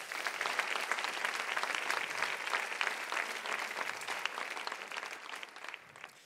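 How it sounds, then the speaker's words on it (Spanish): Loud, sustained applause from a church congregation, dense steady clapping filling the space for several seconds without a break. "Dele un fuerte aplauso otra vez al Señor"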